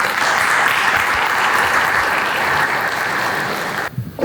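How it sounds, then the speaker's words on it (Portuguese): Loud, sustained applause from a conference audience at a pest-control industry event in Peru, steady dense clapping for about four seconds that cuts off abruptly near the end. "Brindémosle un fuerte aplauso a Julio Flavio desde Brasil."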